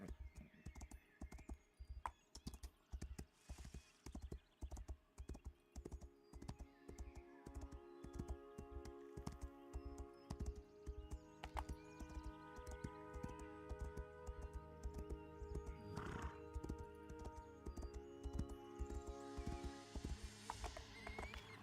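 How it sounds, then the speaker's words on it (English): Video game horse galloping with rapid rhythmic hoof clip-clops, then slowing, with occasional neighs over a layered in-game music bed. "I got a jacked up horse, by the way, Bolt, so good luck with that"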